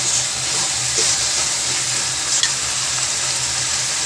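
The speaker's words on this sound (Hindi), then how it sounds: "तो मैं 2 चम्मच ये लेमन जूस डाल दूँगी" Biryani frying in a pot sizzles and hisses steadily after lemon juice is poured in, a close, continuous crackle with light stirring and no talk.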